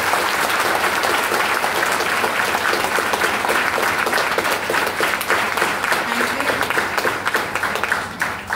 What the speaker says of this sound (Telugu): కొట్టట్లేదు అన్న వాళ్ళందరూ ఒక్కసారి గట్టిగా క్లాప్స్ కొడుతూ మాట్లాడారు